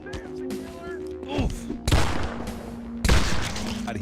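Two heavy revolver shots from the Postal 4 video game, about a second apart, loud broadband blasts over a steady game music and ambience bed.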